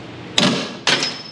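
A hammer used as a lever against a Jeep suspension arm gives two sharp, close metallic knocks about half a second apart, each with a brief ringing decay.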